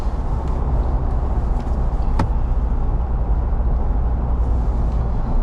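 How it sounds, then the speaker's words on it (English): Constant road and wind noise inside a 2022 Ford Bronco with a manual gearbox cruising on the highway, a loud, even low roar that goes on without pause. "The road noise overall isn't bad."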